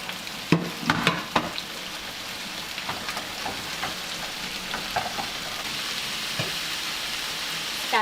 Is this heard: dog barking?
no